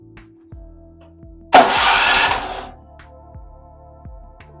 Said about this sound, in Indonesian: Kita harus nyalain genset. Oke? Kita nyalain genset ya. Oke, ini nyalain.